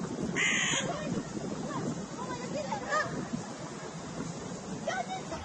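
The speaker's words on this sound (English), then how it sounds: "An envious carrion crow looks on." A carrion crow caws a few times, harsh calls spaced apart, over outdoor shoreline noise with geese honking and water lapping.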